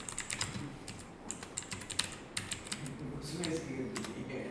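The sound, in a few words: typing on a computer keyboard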